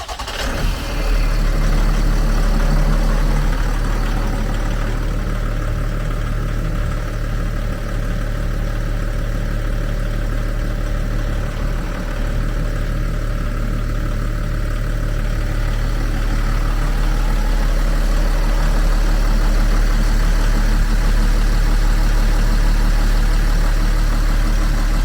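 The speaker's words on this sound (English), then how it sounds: "Look closely at the transom of the boat as she accelerates away." A Tollycraft 26 boat's steady, loud inboard engine drones continuously, its low hum holding firm with slight rises in pitch as it accelerates away, no voices present.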